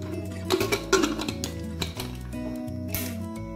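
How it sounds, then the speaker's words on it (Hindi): Metal pressure cooker lid clanks and clinks shut in a home kitchen while cooking dalia pulao, a few sharp close metallic knocks followed by quieter rattles, no talking. "कुकर को बंद करेंगे।"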